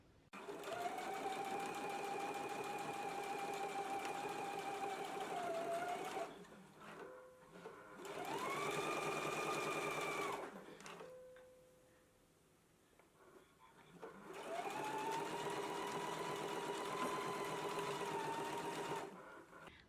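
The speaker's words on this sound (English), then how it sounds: "Let's go ahead and do our top stitch now." A sewing machine topstitches along a placket edge in three long, steady runs of fast, even whirring with a short pause and a quieter gap between runs. Faint soft handling noises fill the breaks.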